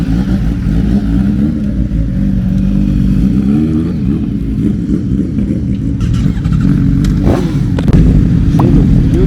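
A Suzuki GSX-R superbike cruises along a highway, its engine droning loud and steady with wind rush, the pitch wavering and rising briefly as the throttle opens.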